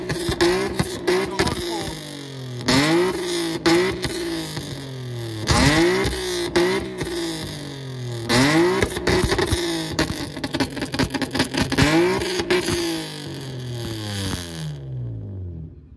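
A car at a Japanese car meet revs hard again and again, its engine pitch rising and falling, with sharp pops and bangs crackling between revs. It sounds loud and close, and no one talks.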